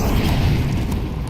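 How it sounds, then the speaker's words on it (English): A flashbang grenade bursts in a tactical shooter match, one loud low boom with a rumbling tail lasting about a second, close and alone. "Flashbang."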